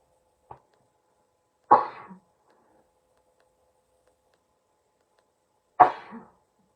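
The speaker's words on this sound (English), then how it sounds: "Excuse me, I'm going to sneeze." Two sharp sneezes from one person, the first several seconds after a tiny click, each a loud close burst trailing off briefly, with silence between.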